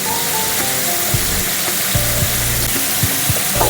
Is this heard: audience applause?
no